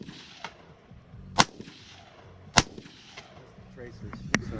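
Rifle shots ring out in open desert, three sharp loud cracks spaced a second or so apart, with a fainter pop in between and a quiet background between shots.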